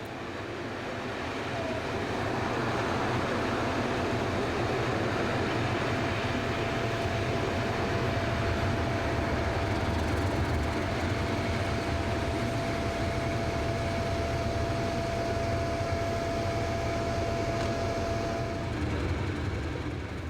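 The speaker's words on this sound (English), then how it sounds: "At Westbury, the morning train from Castle Cary arrives" A Fragonset Class 31 diesel locomotive pulls the morning train from Castle Cary into Westbury station with a steady, loud engine drone and a long sustained whine that swells and then eases.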